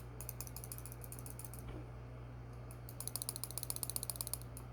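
Balisong knife by TheOne being flipped, giving rapid mechanical clicking and ratcheting bursts with metallic tapping, loudest in a quick rhythmic run near the end, over a steady low hum.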